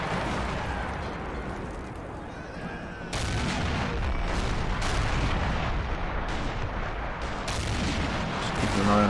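Artillery fires in an Army Men video game battle as a continuous stream of distant booms and rattling gunfire. The volume swells partway through as the barrage grows denser.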